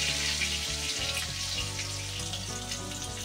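Seasoned potato pieces frying in a pan give a soft, continuous sizzle and crackle, fairly quiet, with faint pops throughout.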